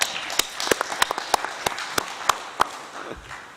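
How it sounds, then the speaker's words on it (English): Sparse, scattered clapping from a small audience at a UN South-South multi-stakeholders' meeting, isolated claps spaced irregularly for a few seconds after the panel is introduced, never building into full applause. "please join me in giving our esteemed panel a round of applause."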